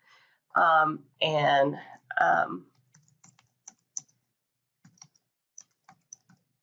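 Someone types an order name on a computer keyboard: a scattered run of light, separate key taps after a person finishes speaking.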